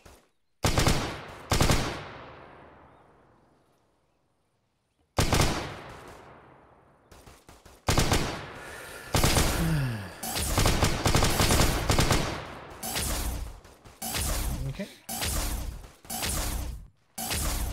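Gunfire in the video game Arma 3 with a Warhammer 40K mod: loud booming shots and rapid automatic bursts, some shots trailing off in long echoes, with a whoosh partway through and no talk.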